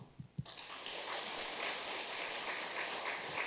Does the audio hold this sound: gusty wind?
no